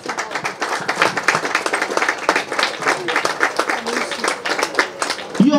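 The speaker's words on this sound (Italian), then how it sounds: "Applauso." Audience at an Italian bookshop book presentation clapping in a loose, irregular patter of individual claps, moderately close and steady throughout, with voices murmuring underneath.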